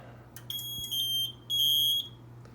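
A Notifier fire alarm system sounds after a pull station is activated, giving two loud, piercing high-pitched electronic tones, each about half a second long, over a low background hum.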